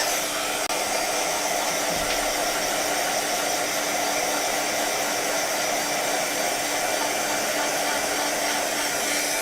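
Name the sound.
drying pigment ink with a dryer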